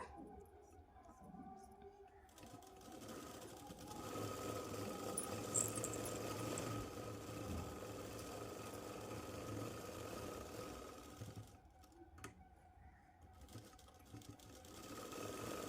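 A sewing machine stitching a Punjabi dress runs steadily at close range with a mechanical hum and light rattle, pausing briefly near the start and again around the twelve-second mark before resuming.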